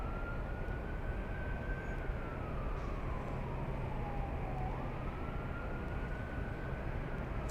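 A Lufthansa airliner at LAX airport produces a steady, broad jet-engine rumble with a faint whining tone that dips and rises, distant and unbroken, with no talk.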